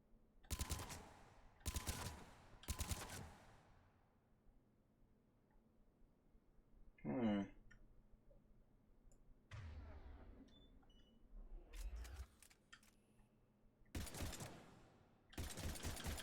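Gunfire at a shooting range in the game Mass Effect 3, with sharp bursts of rapid shots in clusters, separated by quiet gaps, a few mechanical clicks and scrapes, then more bursts near the end.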